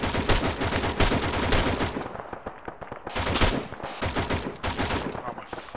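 Rapid automatic gunfire in the military shooter Arma 3, dense bursts of loud cracking shots with short pauses between volleys, while a voice talks over it.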